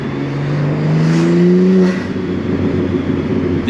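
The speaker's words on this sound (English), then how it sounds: "the intakes on this thing sound so good" A BMW M3 engine revs hard on downshifts with a loud intake note, heard from inside the car on a late-night drive; the pitch climbs sharply for about a second, then settles into a steady rumble.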